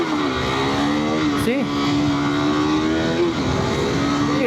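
A motorcycle engine runs loud and close with heavy vibration, holding a steady rumbling note with slight rises as it revs, while someone talks over it.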